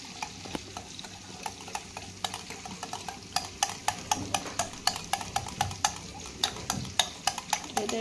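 A spoon stirs spices into a curd okra curry in a pan, giving a soft sizzle under repeated clinks against the metal that grow more regular and rhythmic as it goes.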